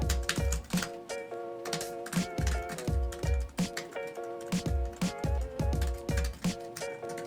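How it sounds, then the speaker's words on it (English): Fingers type briskly on a membrane travel keyboard, a close, steady stream of soft clicky keystrokes with a lightly rhythmic patter. "It is, of course, a membrane keyboard, but it does feel nice and clicky for what it is."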